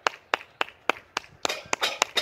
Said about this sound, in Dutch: Mensen, meer applaus